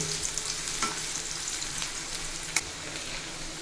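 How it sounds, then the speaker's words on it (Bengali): Chopped onion and four green chillies fry in oil for a village-style sour, spicy and sweet puti fish dish. A constant close sizzle is broken by a few stirring scrapes and one sharp tap. "এখন এই পেঁয়াজ মরিচ ভেজে একটু ব্রাউন কালার করে নেব।"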